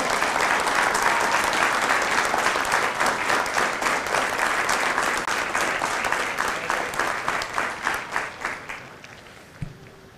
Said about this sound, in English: please join me in a round of applause for the company staff of Company E.